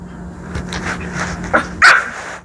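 A dog barks a few times in short bursts, one sharper yelp standing out near the end, over a low steady hum.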